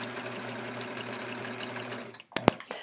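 A sewing machine fitted with a walking foot stitches a quilt in a steady, close mechanical hum that runs evenly, then stops, followed by a couple of sharp clicks.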